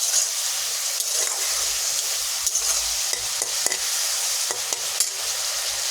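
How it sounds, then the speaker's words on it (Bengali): Shrimp and spices sizzle steadily in a hot pan while a utensil stirs and scrapes through them, close and continuous, with occasional knocks against the pan. "চিংড়ি মাছটা দিলাম, দিয়ে মশলাটাকে এখন এর মধ্যে কষিয়ে দেবো।"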